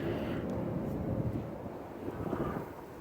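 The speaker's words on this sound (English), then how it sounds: "It's just so a little windy." Wind buffets outdoors around a Kamado Joe Big Joe ceramic grill on a stainless steel cart, a steady low rumbling gust noise over the microphone with no talk.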